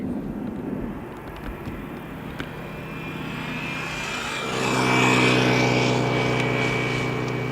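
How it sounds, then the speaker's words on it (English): An 18-year-old German Airways Embraer 190 jet operating for KLM at Amsterdam Schiphol passes overhead, a broad engine roar that swells and grows louder toward the end, with no talking. "German Airways Embraer 190, the Adler to Bremen, flying for KLM as flight 1763"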